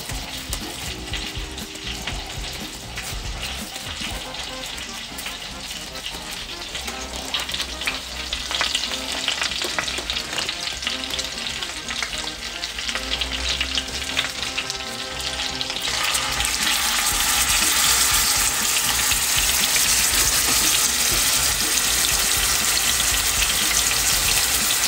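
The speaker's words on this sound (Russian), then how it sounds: "Пока наш бифштекс жарится," Beef steak frying in a pan with a sprig of thyme to be added, a loud continuous sizzle and crackle that grows stronger and brighter partway through, with no talking.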